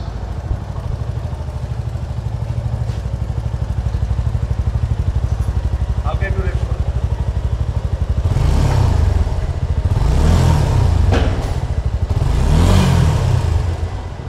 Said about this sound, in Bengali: এখন আমাদেরকে মোটরসাইকেলের সাউন্ডটা যদি আবার একটু শোনান